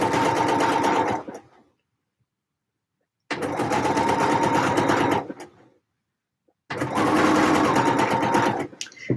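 A sewing machine stitching a quilt seam runs in three steady bursts of rapid mechanical whirring and needle chatter, each several seconds long with quiet pauses between, close and fairly loud.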